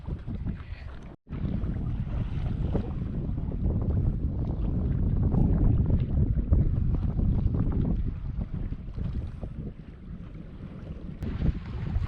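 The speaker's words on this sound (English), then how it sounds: "You are steering a sailboat that is only under sail." A sailboat moving under sail alone, with steady wind buffeting the microphone and a constant rushing wash of water along the hull, loud and continuous after a brief dropout near the start.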